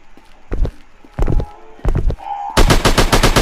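Gunfire in a mobile shooting game: a few separated single shots, then a rapid sustained automatic burst at the end, loud and close.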